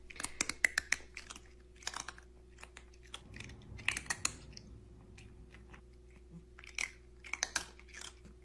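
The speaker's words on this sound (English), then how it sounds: "Oh my god, he's crunching." Someone chews something crunchy close to the mic, with sharp irregular crunches in bursts over quiet background hum, without speech.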